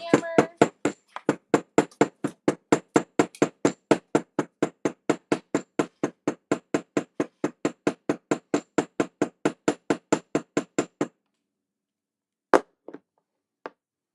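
Steady rapid hammer blows on metal during a boho garden craft project, dozens of sharp, evenly spaced strikes for about eleven seconds, then a pause and two more isolated taps near the end, close and loud with no talking.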